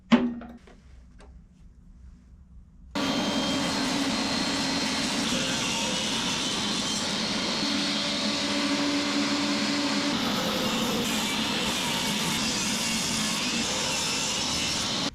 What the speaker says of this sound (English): we're just using the table saw